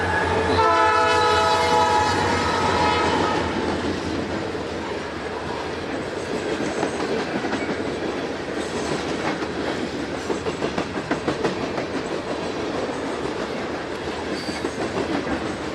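Canadian National freight train led by SD70 locomotives passing southbound on the Yazoo Subdivision in the Mississippi Delta, opening with a loud horn blast, then steady rumble and rhythmic clickety-clack of wheels as cars roll by close.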